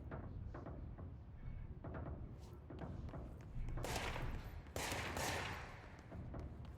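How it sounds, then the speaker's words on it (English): Rapid bursts of gunfire in the video game Control, firing at the player character in loud, irregular volleys that grow denser and harsher toward the end, over low rumbling game ambience. "What the fuck is shooting at me?"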